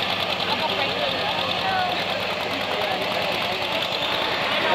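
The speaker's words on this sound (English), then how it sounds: "That's the slowest tractor yet pulling." A farm tractor engine labors steadily through a pull at the Waterford Fair, its low, continuous knocking drone heard from a distance under crowd chatter and nearby talk.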